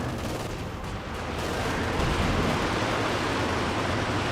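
Artillery barrage in the strategy game Company of Heroes 2: a continuous, rumbling wash of explosions and gunfire that swells slightly and holds steady without any clear pauses.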